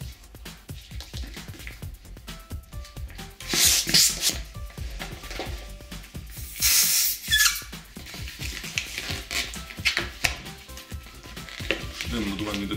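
A yellow modelling balloon is stretched by hand, giving a run of squeaky, rubbery rubbing strokes with brief louder bursts. The sound stays close and fairly quiet throughout.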